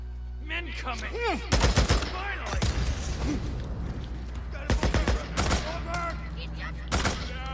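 Gunfire in Days Gone comes in several loud, rapid bursts separated by short pauses, with someone talking between and over the shots.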